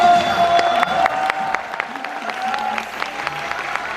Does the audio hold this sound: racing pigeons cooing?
no